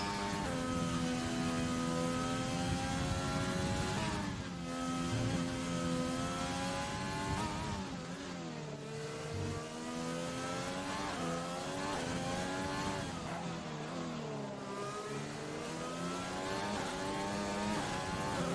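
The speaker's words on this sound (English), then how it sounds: "I'll stay silent for this, just so you guys can hear the car and SLR Connor's lap" An F1 race car in a racing video game runs a lap of the Netherlands circuit, its high engine whine climbing and falling steadily through gear shifts and corners, loud and continuous with no talk.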